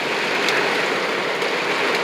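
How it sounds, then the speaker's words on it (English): Heavy rain pounds on a car while driving in Clifton, New Jersey, a dense steady hiss of drops on the roof and windshield, loud and unbroken for the whole stretch. "Boy, it's really raining in New Jersey."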